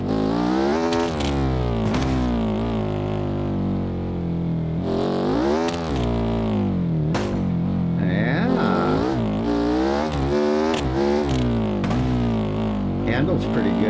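A dragster engine in BeamNG.drive drones and revs continuously with rising and falling pitch, loud and close, with a few sharp clunks from the car.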